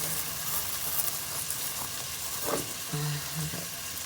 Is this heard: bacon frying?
yes